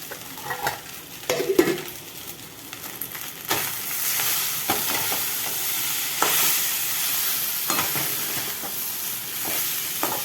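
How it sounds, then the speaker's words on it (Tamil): A spatula stirs and scrapes rice in a sizzling frying pan, with irregular strokes over a constant hiss of frying. "இப்படி பெரட்டி கொஞ்சம் அடியில் சுரண்டாமல் பெறட்டுறேன்"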